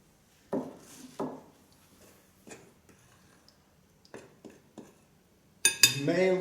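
A spoon or utensil clinks and knocks against a bowl while gâche dough ingredients are mixed, a few sharp scattered taps in a quiet room, ending with a burst of brighter clattering.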